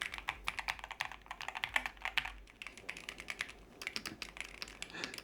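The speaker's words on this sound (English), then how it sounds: "this one is a good introduction to mechanical keyboards" Typing on a loud mechanical keyboard, heard up close as a quick, steady run of sharp clacking keystrokes with a short pause partway through, without any talking.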